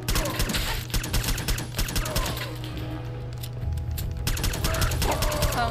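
Rapid gunfire bursts in the video game Fallout 4, loud and sustained with dense repeated shots over a steady low background hum.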